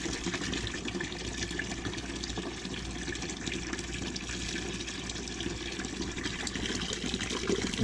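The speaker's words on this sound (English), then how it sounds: "look at how hard that water is shooting out" Water spraying hard and continuously out of a leaking air vent on a steam boiler, a steady close rushing hiss with no pauses.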